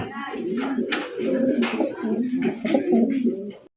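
Large Russian fighter pigeons coo continuously in low, throaty rolling calls, several birds overlapping close by, with a few faint voices in the background.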